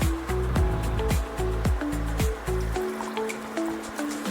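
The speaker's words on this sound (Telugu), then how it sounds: "ఇదిగోండి వాటర్ పోసాను." Water is poured from a container over soaked almonds in a vessel, a close trickling stream with drips and gurgles that stops partway, leaving faint drips and a quiet room.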